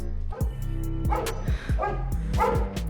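Several sharp dog barks in a fairly steady rhythm, loud and close, each a short burst with a brief pause between.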